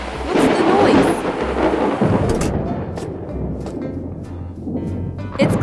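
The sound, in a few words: thunder rumbling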